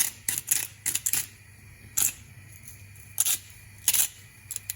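A hand grinder cranks salt over rice in a pan, coming as short bursts of dry, crunchy clicking with pauses between them, close and fairly quiet, with no talking.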